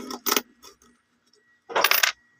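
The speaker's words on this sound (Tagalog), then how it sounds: "Kunin natin yung barya." Coins clinking and jangling as they are pulled from a coin-operated vending machine, two short bursts of rattling metal with a pause between, close and fairly loud.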